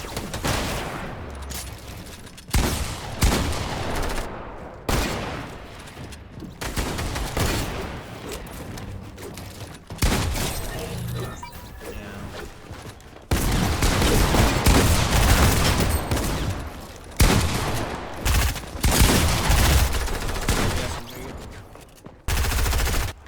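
Assault rifle fire in Fortnite, with loud bursts of rapid shots in repeated volleys and short pauses between them, close and dominant from start to finish.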